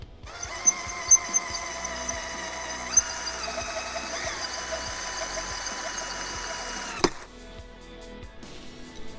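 A power drill whines with a steady high-pitched tone as it grinds a hole through a planter pot, then abruptly cuts out, leaving quieter background noise.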